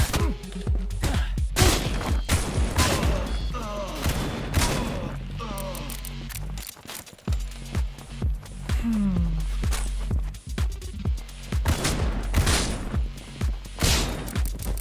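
Revolver gunfire in a video game: sharp, close shots in irregular bursts, with thuds and footsteps between them and a short lull midway, while a voice talks faintly over the action.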